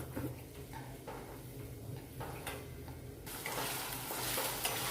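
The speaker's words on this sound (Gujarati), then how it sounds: "આ રીતે મીડિયમ ગેસ પર આપણે હળદરને શેકી લઈશું" Fresh green turmeric roasting in a pan over a medium gas flame, with a soft steady sizzle and scraping stir strokes that grow louder and brighter toward the end.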